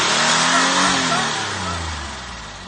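A Mitsubishi Eclipse engine coming back to life after a jump start, heard up close as a loud, strained rev that climbs and then slowly falls away, with no talk over it.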